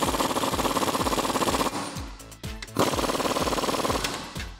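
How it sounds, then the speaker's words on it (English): An impact wrench with a 19mm deep socket rattles rapidly as it tightens U-bolt nuts on a Jeep Wrangler JK axle. There are two loud bursts of hammering with a short pause and clank between them. "We can take a 19mm deep socket and go ahead and tighten those down."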